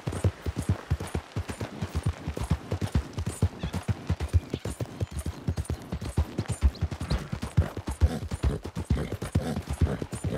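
Horse galloping in Red Dead Redemption 2, a steady, fast clip-clop of hooves pounding in a driving rhythm for the whole stretch, loud and close with no talk over it.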